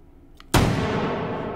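A single shotgun blast in the video game Hot Dogs Horseshoes & Hand Grenades, a sharp loud boom that rings out and decays quickly, with no talk.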